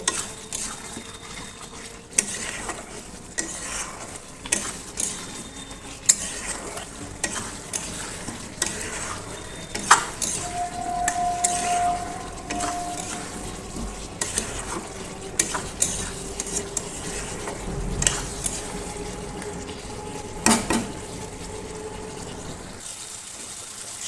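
Soybean chunks being stir-fried with spices in a pot: a continuous low sizzle under repeated scraping and clinking of a metal spoon, with irregular stirring strokes close up over a long stretch.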